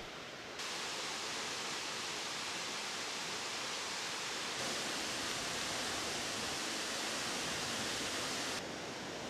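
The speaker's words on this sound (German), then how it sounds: "Oberhalb des großen Wasserfalls gibt es noch einige kleinere zu erkunden." A waterfall in the Serengeti area pours in a steady, dense hiss of falling water, close and continuous, swelling slightly louder partway through before easing back.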